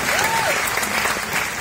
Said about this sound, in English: Well, we'll clap for them in our stage here.